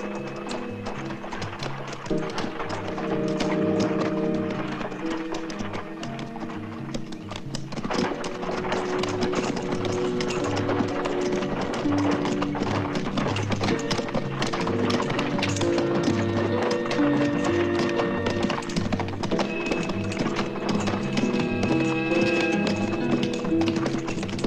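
Horses pulling a cart clop along steadily and continuously, hooves tapping in a rhythmic gait beneath a dense, busy wash of background sound.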